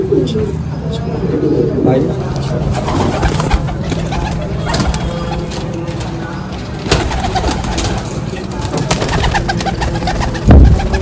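A pair of Golden Kamagar pigeons, a male and a female, coo close by under steady talk, with a few sharp handling knocks.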